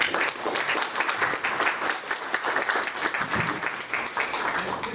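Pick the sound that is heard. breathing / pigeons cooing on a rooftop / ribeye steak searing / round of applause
round of applause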